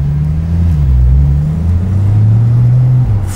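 A Porsche 991.2 Turbo S pulls away hard in a loud, close, deep engine drone that rises steadily in pitch, dips briefly at a gear change and climbs again, with cabin rumble underneath.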